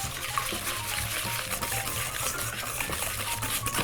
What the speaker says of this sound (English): And just whisk that together until it's slightly pale.